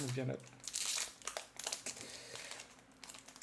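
Crinkling and tearing of plastic wrap as a Yu-Gi-Oh! trading card display box (L'Infini Interdit) is carefully opened, with crisp rustling bursts and crackles close by, partly under low speech.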